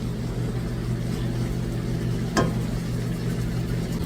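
Salmon simmers in a sauce in a pan as it is returned to the pot. A steady low bubbling sizzle runs throughout, with one brief sharp clatter or splash near the middle and no talking.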